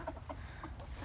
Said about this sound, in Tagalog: Katuwa yung mga manok ko.